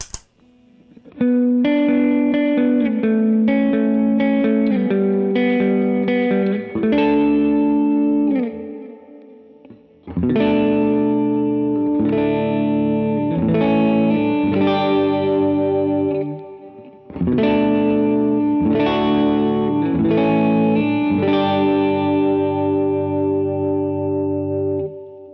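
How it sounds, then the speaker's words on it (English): Bass guitar played through a Lauren Audio Mustang GT pedal with reverb and delay added, three sustained melodic phrases of held notes and chords, close and steady, with short pauses between phrases. "Now let's hear some of those bass examples with just the Mustang, and I'll add some reverb and delay."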